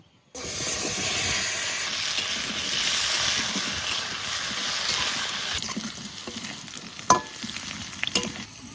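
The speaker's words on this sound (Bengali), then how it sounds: "এবার মাছের তেলে আলু ভেজে নেব।" Potatoes fry in fish oil left over from frying fish, a strong, close sizzle that starts abruptly and holds steady, then softens, broken by a few sharp clinks near the end.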